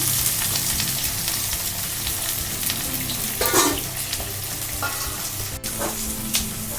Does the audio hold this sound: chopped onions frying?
yes